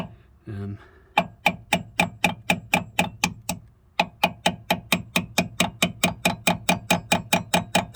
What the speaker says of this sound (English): It's a little bit tight, so I'm just going to give it a tap very carefully.